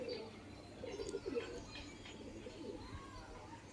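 Low, throaty cooing from a female pigeon kept in a loft, a short warbling burst near the middle over steady background hiss and faint bird chatter.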